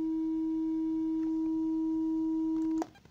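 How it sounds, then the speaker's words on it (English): A pure 320 hertz sine tone, steady and unwavering, sounds at constant loudness for about three seconds and then cuts off abruptly with a small click. "So that's my pure tone of about 10 seconds."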